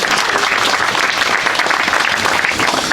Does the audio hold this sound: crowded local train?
no